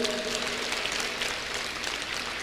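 An audience at a school event led by the chief guest gives a big round of applause, a dense and continuous patter of clapping that stays even throughout.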